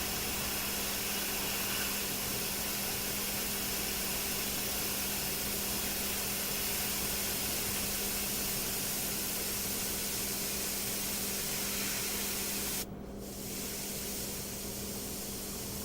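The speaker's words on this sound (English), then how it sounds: "we're going to put some details, micro airbrush details." A micro airbrush sprays paint for fine detail on a dragon artwork, producing a steady close hiss of compressed air with a constant hum beneath, briefly broken by a short burst of sharper air near the end.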